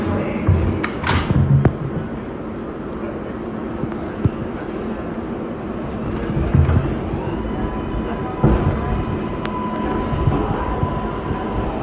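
An R188 subway train on the 7 line runs toward 34th Street Hudson Yards, a steady loud rumble with rail clatter and occasional clicks and squeals heard from inside the car.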